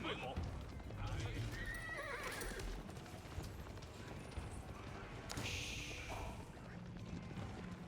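Horses neigh and whinny amid clip-clop hooves and battle clatter in the real-time strategy game Age of Empires, with a commentator talking over the dense, continuous game sound.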